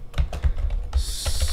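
Quick keystrokes on a computer keyboard while writing Swift code, a short run of about half a dozen crisp clicks in an uneven rhythm, close to the microphone with no talk.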